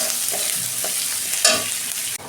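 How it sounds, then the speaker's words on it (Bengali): Sliced onions frying in a pan with a little salt give a steady, close sizzle, with light stirring scrapes and a brief louder crackle near the middle. "পেঁয়াজ আমি অল্প নুন দিচ্ছি। 2 মিনিট ভেজে নেবো পেঁয়াজটা।"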